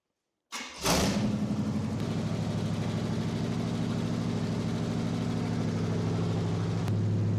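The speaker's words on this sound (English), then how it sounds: "hearing an engine fire up and run for the first time" After a moment of silence a swapped-in Cadillac 500 engine cranks and catches for its first start, then settles into a steady, loud, rumbling idle nearby.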